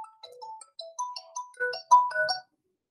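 A phone ringtone plays a short, clean electronic melody of bright beeping notes that speeds up and thickens toward the end before stopping, close and clear with no talking.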